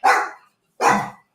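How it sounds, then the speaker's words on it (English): Several household dogs, a Chihuahua among them, are set off by someone arriving home; two sharp, loud barks sound close by, spaced under a second apart, with no talking. "the dogs are all going nuts"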